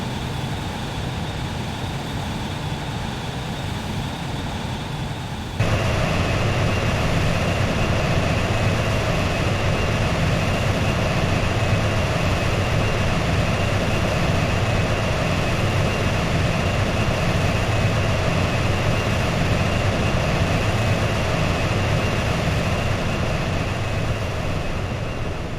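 Steady, loud aircraft engine roar from Xenoblade Chronicles X as a plane comes in to land, a continuous broadband drone with a faint high whine, stepping up in loudness a few seconds in and holding unbroken.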